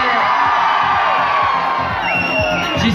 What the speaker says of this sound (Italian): Questo urlo mi sembra un po' basso, riproviamo.